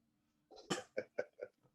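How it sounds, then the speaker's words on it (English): A person coughs in a short burst of four or five harsh, closely spaced hacks, near and fairly quiet. "Excuse me while I cough."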